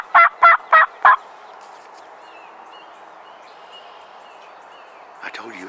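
A wild turkey gobbles in four quick, loud bursts close by during a turkey hunt, followed by a long stretch of faint outdoor hush and a soft rustle at the end.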